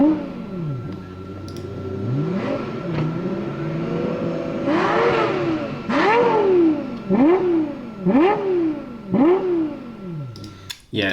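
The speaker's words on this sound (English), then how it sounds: "We all know the LFA sound," Lexus LFA engine revved repeatedly in a series of sharp, high-pitched blips, each rising then falling quickly, loud and close with the rhythm tightening toward the end.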